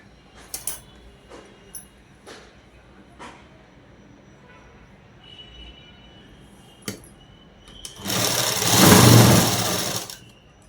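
A sewing machine stitches a night dress in one loud, steady whirring burst near the end, after quiet handling noises and a few faint clicks.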